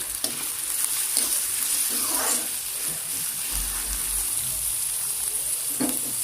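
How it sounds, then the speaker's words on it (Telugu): Thinly sliced onions sizzle in hot oil while being stirred, a steady close frying hiss with a few scraping stir strokes and no talk. "సన్నగా కట్ చేసి పెట్టుకున్న ఆనియన్స్ అండి ఇది ఒకసారి కలుపుకుందాము"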